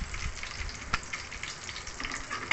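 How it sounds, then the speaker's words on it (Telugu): Chickpeas and dry red chillies frying in hot oil for a tempering, a steady close sizzle with faint crackles and stirring, heard alone. "బాగా వేయించుకోవాలి,"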